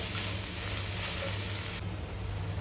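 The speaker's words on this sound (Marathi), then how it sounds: "मीठ घालून छान असं परतून घेऊया." Soya chunks sautéing in masala with salt in a pan, a steady close sizzle and frying hiss that drops to a quieter simmer partway through, with no voices.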